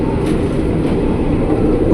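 Argo Merbabu passenger train of nine executive cars passing on the elevated line, a steady loud low rumble with no talk.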